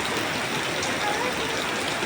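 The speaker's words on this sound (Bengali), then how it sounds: "যত বাতাস আর অত পানি সাথে আর বৃষ্টিও আছে" Heavy rain and rushing floodwater during Cyclone Remal, with water standing in a home courtyard, form a dense, steady wash of noise that stays loud and unbroken throughout.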